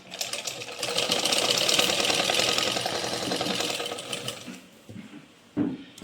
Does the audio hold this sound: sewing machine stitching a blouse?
yes